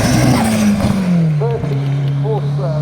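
A 1973 MG Midget sports car at the Shelsley Walsh hillclimb, its small engine droning steadily close by with a falling pitch, heard under continuous commentary.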